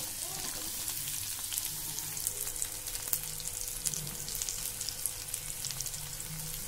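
Chopped onions, small shallots and large onion, frying in oil for a bottle gourd curry, a continuous close crackling sizzle with scattered pops, steady and fairly loud with no talking.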